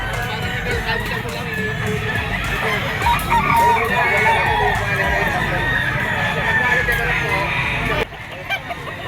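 White-legged Kelso gamefowl stag and other roosters crowing and clucking in a busy yard, loud and continuous with overlapping calls, someone talking throughout.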